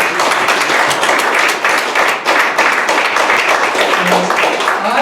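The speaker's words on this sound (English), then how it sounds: "So a round of applause for all three of our friends." Audience applause at a magic show, dense steady clapping from a crowd filling the whole clip, loud and close, with no talk over it.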